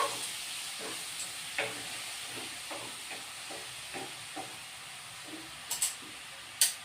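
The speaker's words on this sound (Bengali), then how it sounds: "অল্প জল দিয়ে দিই এবার কষিয়ে নিব একটু" Ginger paste and spices stir-fry with a splash of water, giving a quiet, even sizzle broken by soft stirring and a few sharp utensil clinks near the end.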